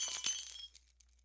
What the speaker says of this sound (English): He took a small hammer from his jacket pocket and broke the glass of the shop door.